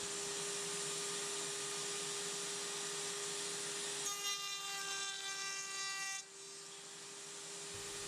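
A router table cuts a dovetail test piece in wood with a steady high motor whine, and a harsher cutting tone rises for about two seconds midway before fading back to the idling router.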